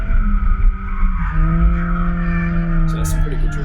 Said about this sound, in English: So there's some pretty good drifting there